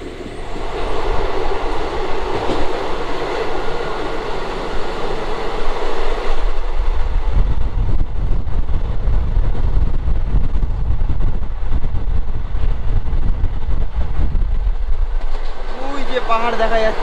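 An old passenger train on the Howrah to Purulia line runs at speed, a loud steady rumble with rail clatter and wind buffeting, the tone shifting midway as it passes different surroundings.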